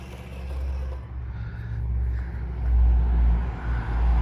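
A Subaru Impreza drives past nearby, its engine rumble swelling and fading in steady waves, with no speech over it.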